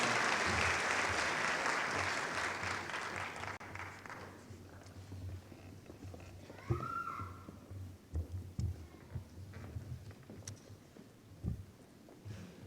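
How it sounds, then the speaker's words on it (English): An audience at a public meeting on the prescription opioid and heroin epidemic applauds loudly and densely, the clapping fading over several seconds into scattered individual claps and light shuffling. "One more round of applause for them as they make their way back to their seats."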